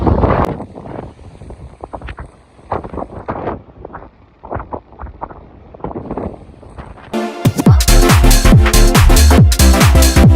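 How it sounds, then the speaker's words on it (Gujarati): Gusty seashore wind at Dwarka buffets the microphone in low rumbling bursts for several seconds, then loud music with a strong beat takes over. "અત્યારે અહીંયા પવન બહુ આવતું હશે"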